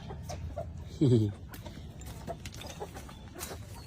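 A farmyard chicken near an egg-collecting spot gives one loud, close cluck about a second in, then quieter rustling and soft background noise follow.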